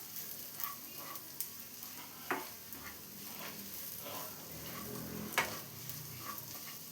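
Egg yolk mixture is stirred in a pan, a soft steady scraping and gentle sizzle with occasional light clicks of the utensil against the pan, quiet and continuous.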